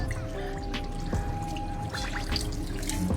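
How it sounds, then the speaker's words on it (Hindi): Tap water runs steadily into a wash basin as hands are washed, a continuous trickling and splashing stream over a low background hum. "ये वॉश बेसिन है, आप आराम से यहाँ पर हाथ धो सकते हैं"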